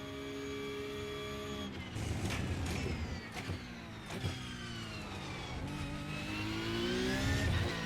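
Simulated race car engine in iRacing, a steady harmonic drone whose pitch climbs and drops through upshifts and braking for a hairpin, loud and continuous with brief sharp clicks of gear changes.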